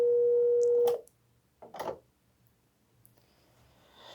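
Wildix WP410 desk phone: a steady dial tone sounds for about a second, cut short by a key press, followed by a short electronic burst and faint clicks as an extension is called, then near silence.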